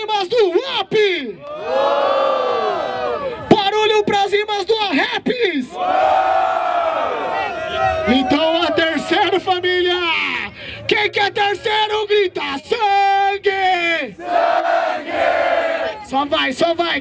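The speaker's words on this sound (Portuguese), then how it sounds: "Vamos para a votação, família. Barulho pras rimas do Up" Crowd at a São Paulo street rap battle semifinal erupts in loud cheers, whoops and shouted chants for the vote, rising in repeated waves of yelling over roughly seventeen seconds, with voices calling out between the bursts.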